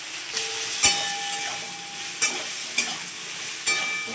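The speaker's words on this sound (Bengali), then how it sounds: "তো বন্ধুরা বেগুনটা ভালো করে ভেজে নেবো।" Eggplant slices fry in hot oil with turmeric and salt, giving a steady close sizzle broken by a few sharp clinks of a utensil against the pan; no one speaks.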